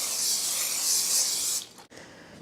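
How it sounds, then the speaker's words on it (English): A close, steady olive oil spray hiss into a bowl lasting about a second and a half, then stopping with a faint clunk and quiet room noise. "I'm going to spray my bowl."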